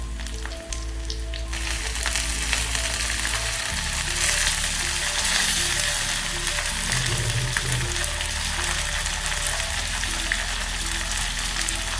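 Tempering spices such as cumin and coriander sizzle and crackle in hot oil for drumstick sambar, a close, continuous frying hiss with no talking.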